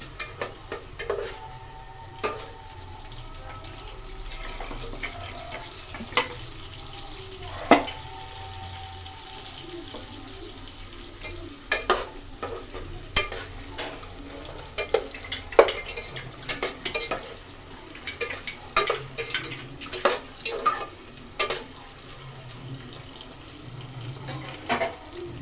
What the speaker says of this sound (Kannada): ಇದು ಕೆಂಪು ಕಲರ್ ಆಗೋವರೆಗೂ ಫ್ರೈ ಮಾಡಬೇಕು.